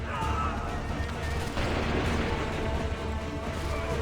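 Musket volley from soldiers in the Assassin's Creed 3 video game: a dense, continuous wash of rumbling gunfire and battle noise that stays loud throughout, with a burst of crackling shots just after the midpoint.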